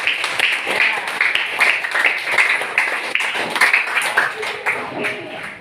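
Classmates in a classroom clap for a group walking up to present, a lively spell of dense, close hand claps with scattered voices mixed in.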